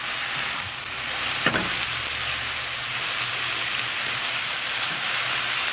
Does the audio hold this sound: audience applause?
no